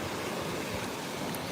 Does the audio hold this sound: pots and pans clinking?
no